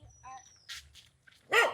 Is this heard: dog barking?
yes